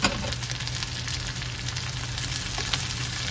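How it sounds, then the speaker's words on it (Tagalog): String beans sautéing in a pan without oil while cooking string bean adobo, a loud, steady, close sizzle with a brief stirring clatter near the start. "Saka natin igisa itong sitaw ha"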